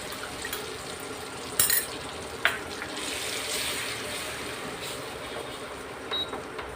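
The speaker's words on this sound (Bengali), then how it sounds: "এবার আমি এই মশলার পেস্টটা দিয়ে দিচ্ছি" Spice paste hits fried onions in a hot pan, giving a steady, even hiss of sizzling with a couple of sharp utensil clinks partway through.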